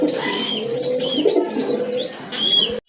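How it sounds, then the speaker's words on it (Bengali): A pair of Genda pigeons with striking coloured plumage cooing close by in soft, throaty, rolling calls, with faint chirping over the top, continuing steadily and without speech before stopping suddenly. "একজোড়া গেন্দা কবুতর আছে, খুবই সুন্দর কালার"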